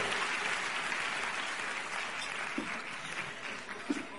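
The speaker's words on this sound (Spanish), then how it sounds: "Nuestro gran aplauso esta noche por hacer posible esta convención." A convention crowd applauds the people who made the event possible, giving a broad, continuous wash of clapping from a large audience that carries on evenly for a few seconds.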